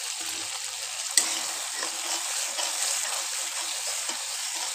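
Egg korma masala with Kashmiri chili powder sizzles and fries steadily in a pan while being stirred, with one sharp clink of the utensil near the start and softer scraping afterward; no one talks.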